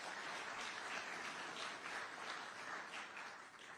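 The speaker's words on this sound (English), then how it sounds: "And that's worthy of applause." Audience applause at a public event on education in Tampa, a steady, even wash of clapping lasting throughout, fairly distant and faint with no voices over it.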